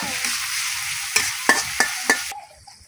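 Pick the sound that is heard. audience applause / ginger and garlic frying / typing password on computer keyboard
ginger and garlic frying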